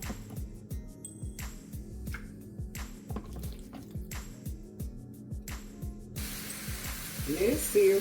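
Steady sizzling and crackling as chicken breast sears in olive oil in a hot frying pan, with rhythmic scraping or pulsing underneath and a brief louder hiss near the end.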